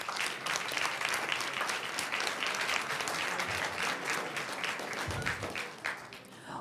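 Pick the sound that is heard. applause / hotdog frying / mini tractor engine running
applause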